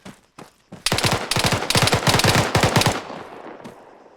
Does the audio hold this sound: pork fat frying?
no